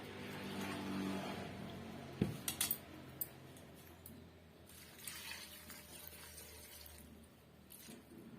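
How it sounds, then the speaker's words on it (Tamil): Water pours steadily into a pressure-cooker pot of moringa leaf curry, with a brief cluster of metallic clinks partway through. No one speaks. "இப்போ தேவையான அளவுக்கு நம்ம தண்ணி சேர்த்துக்கலாம்"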